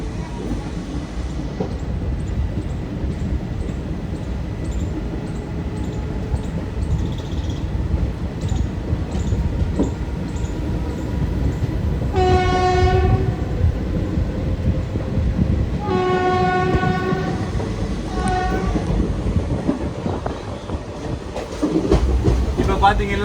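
A train in Madhya Pradesh rolls through a railway station, its wheels clattering steadily as the horn sounds in several loud tonal blasts, some short and some held, over continuous rail noise.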